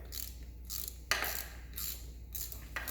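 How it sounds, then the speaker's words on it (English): A ratchet wrench removes a bolt from a 2015 Polaris Scrambler 1000, several quick clicking bursts with brief pauses between them, close and fairly quiet over a steady low hum. "Right now I'm pulling out the last bolt."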